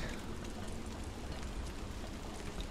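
Steady rain falls in Don't Starve Shipwrecked, a continuous broadband hiss of patter with no talk over it, even and moderately loud throughout.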